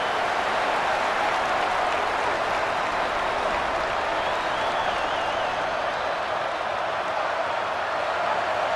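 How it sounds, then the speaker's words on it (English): In EA Sports College Football 27, the home crowd keeps up a dense, loud roar that stays steady and unbroken as the defense tries to get off the field on third down. "Here comes this home crowd as the defense tries to get off the field on third down."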